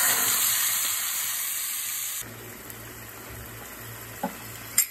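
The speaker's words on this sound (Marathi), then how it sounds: "मसाल्याला एकदम तेल सुटेपर्यंत छान परतून घ्या" Ground masala paste sizzling and frying in hot oil in a cooking pot, a steady loud hiss that drops to a quieter simmering crackle halfway, with a couple of faint clinks near the end.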